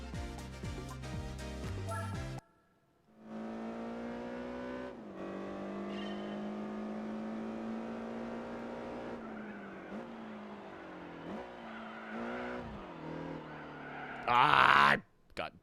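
A race car in Gran Turismo 4 on PS2 brakes and accelerates, its engine note climbing and dropping steadily, with a short tire squeal near the end over faint background music.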